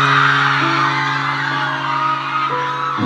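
Concert crowd at an outdoor show in Sto. Domingo, Albay, shouting and cheering loudly in a dense, continuous roar, with sustained held tones humming underneath.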